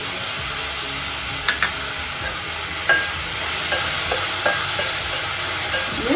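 Onions cooking with salt and curry leaves hiss and sizzle continuously in a pan, with a few sharp spoon clicks and scrapes as they are stirred, near and without talk.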